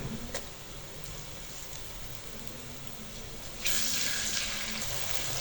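Onion and ginger-garlic paste sizzle steadily in hot ghee for an aloo matar curry, a soft continuous frying hiss that grows brighter and louder partway through, with no voices.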